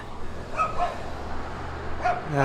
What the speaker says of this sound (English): there's a very chatty dog across the street